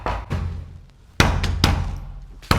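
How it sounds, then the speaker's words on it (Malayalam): Someone knocks on a door: a few sharp, close thuds in separate bursts with pauses between them, and no voices. "ആരോ വാതിൽ നോട്ടുന്നുണ്ട്"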